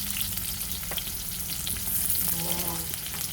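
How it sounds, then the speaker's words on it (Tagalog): Garlic sautéing in oil in a pan where tofu was just fried, a dense, loud, continuous sizzle with faint scrapes of stirring. "Ngayon, ilagay po natin ang bawang. Haluin po natin."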